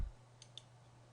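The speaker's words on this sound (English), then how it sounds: "And again, it's simply a right click." A single computer mouse right click, two faint, crisp clicks close together against quiet room hum, nothing else heard.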